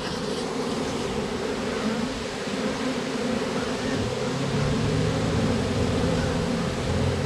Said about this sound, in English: This is a decent little swarm that they cast.